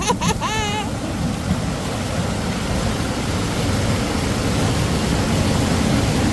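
Water rushes through the spillway of a hydroelectric dam at Little Niagara in Canada, a dense, constant roar. A voice speaks briefly at the start.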